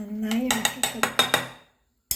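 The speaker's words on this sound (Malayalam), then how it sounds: "നന്നായി ഇളക്കി കൊടുക്കുക." A pot of olan, a Kerala curry with coconut milk, stirred with a metal spoon: a short run of about eight rhythmic scraping clinks against the pot, fairly close, then a pause and one final clink.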